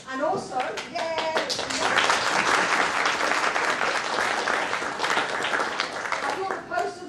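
A workshop audience applauds students in strong metallic alloys as they stand: dense, sustained clapping builds quickly and holds for several seconds at moderate loudness, with voices briefly audible at the start and end.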